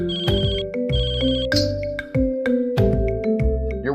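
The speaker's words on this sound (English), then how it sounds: "use the Buzz My Wallet feature within the app. Just follow the sound and you'll locate your wallet in no time." An alert melody from a Secrid-style smart wallet's Buzz My Wallet locator feature, triggered from the phone app over Bluetooth: a loud, repeating series of bright electronic ringtone chimes in a steady rhythm, heard alone with no talk.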